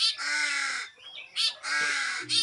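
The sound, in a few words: crow cawing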